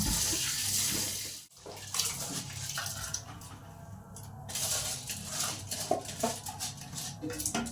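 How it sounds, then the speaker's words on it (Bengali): Rice being washed in water in a pot, with close splashing, swishing and trickling, broken by a brief pause near the start and continuing in uneven bursts. "এই দেখুন চাল নিয়ে চলে এসেছি, ভালো করে চালটা এখন ধুয়ে নেবো"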